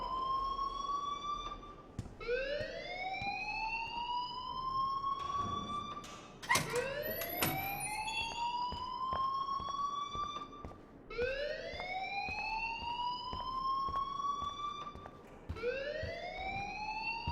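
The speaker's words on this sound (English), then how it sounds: "please turn off that alarm since that's your job" An alarm blares in the video game Life Is Strange: a loud, steady cycle of rising wailing tones that repeat about every four seconds, with a brief clatter partway through and no voices.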